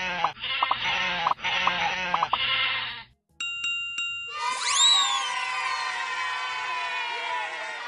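Cartoonish sheep in a video game bleat several times in a row, followed by a short electronic chime and a long, wavering, bright bleat that sustains to the end, with no voices present.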